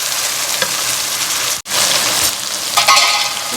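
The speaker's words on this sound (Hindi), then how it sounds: "थोड़ी देर तक इसको इसी तरह से भूनेंगे।" Kachnar masala with whole cumin frying in a pan, giving a steady, loud, close sizzle that cuts out for an instant midway and then resumes.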